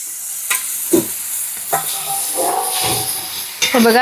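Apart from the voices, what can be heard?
sautéing drumsticks (moringa pods) in a pan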